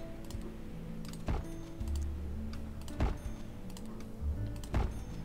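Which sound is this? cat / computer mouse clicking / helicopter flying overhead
computer mouse clicking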